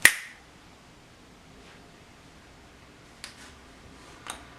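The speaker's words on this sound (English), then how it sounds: "I wish that I could just like snap my fingers" A single sharp, close finger snap rings out, then quiet room tone, with two fainter clicks near the end.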